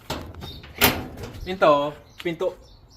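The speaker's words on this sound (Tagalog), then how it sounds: "Pinto sa garage." A garage door slides along its track at a home, a short scraping, thudding burst near the middle, with a person talking nearby before and after it.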